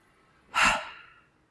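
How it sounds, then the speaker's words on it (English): Slow, deep breath during a tai chi breathing exercise: one long, soft exhale rising sharply and fading gradually over about a second, close and alone in a quiet room. "take a breath in and breathe in, bring your shoulders right up. And then let go, breathing out."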